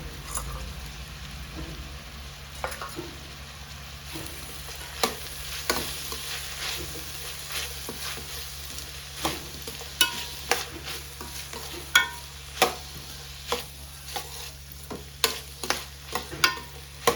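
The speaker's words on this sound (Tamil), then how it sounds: "லோ ஃப்ளேம்லேயே வதங்கட்டும்." Small chopped green chillies sauté in a pan over a low flame for chicken curry, a soft steady sizzle broken by scattered pops and clicks of stirring that grow more frequent toward the end.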